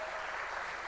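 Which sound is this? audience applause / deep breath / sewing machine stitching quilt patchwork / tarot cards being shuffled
audience applause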